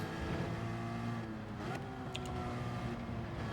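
Race car engine in Gran Turismo 7 during a Manufacturers Cup round at Barcelona, a dense continuous engine drone with steady harmonic tones, loud and unbroken across the short stretch.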